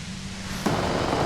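A compressor gives off a continuous white-noise hiss in the Disco Elysium video game. The loud, even rush alone jumps abruptly in level about halfway through.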